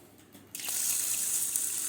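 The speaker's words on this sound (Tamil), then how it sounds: "இப்போ இதை தண்ணி விட்டு நம்ம ஊற வச்சுருவோம்" Water gushes steadily from a tap onto washed idli rice and toor dal set to soak, starting abruptly after a brief quiet moment and continuing as a close, even rush with no talking.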